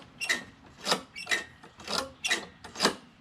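Someone pull-starts the Honda GCV160 engine on a Troy-Bilt TB130 push lawn mower with the choke on. About six quick, rhythmic rasping pulls of the recoil cord sound close up, and the engine doesn't fire.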